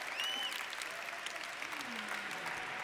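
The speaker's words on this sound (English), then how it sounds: "Give her a big round of applause." A conference audience claps steadily in a wide, reverberant room at moderate volume, with faint tonal sounds and a brief voice-like glide drifting under the applause.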